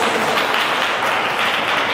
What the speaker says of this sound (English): everybody give her a good round of applause